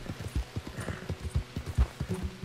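Hooves of a horse in the game Red Dead clopping at a steady walking pace, a run of evenly spaced, close, hollow thuds with no voices over them.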